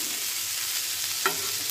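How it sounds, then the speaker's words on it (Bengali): Bitter gourd frying crisp in a pan, giving a constant hissing sizzle, with one brief clack of a stirring spoon partway through. "উচ্ছে ভাজা বসিয়ে দিয়েছি, উচ্ছে ভাজা হয়ে যাচ্ছে।"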